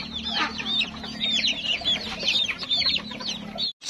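Young chickens of a pure breed kept in a pen call in a rapid stream of high, thin peeps and chirps, many overlapping, loud and close, ending abruptly near the end.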